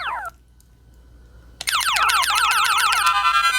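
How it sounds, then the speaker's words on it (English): Galaga extra-man jingle from the arcade game on a Pocket Player Pro handheld, a rapid chirping, warbling electronic sequence that starts abruptly after a brief descending blip and near-silence, loud and continuous to the end. "Extra man sound."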